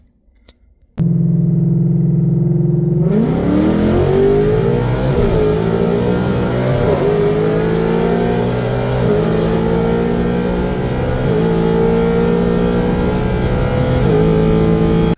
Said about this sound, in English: this is a 2018 Mustang GT